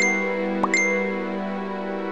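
A phone text message notification rings out as a bright double ding over a steady sustained background tone, clear and close, with no speech.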